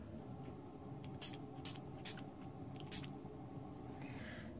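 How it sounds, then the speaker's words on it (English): A handheld spritzer mists water onto Brilliant Red Brusho crystal color sprinkled on embossed paper, several short, crisp spray bursts in quick succession over a steady low background hum. "And then spray it with my spritzer."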